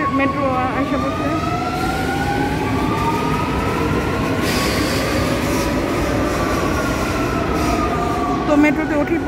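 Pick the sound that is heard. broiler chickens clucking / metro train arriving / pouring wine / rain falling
metro train arriving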